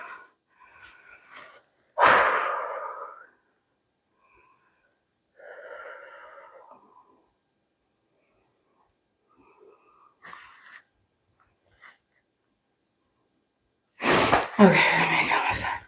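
Heavy breathing after a home workout following rows: a strong gasping exhale bursts out near the start, softer breaths and sighs come in scattered spells, and a loud, rough burst of panting returns at the end.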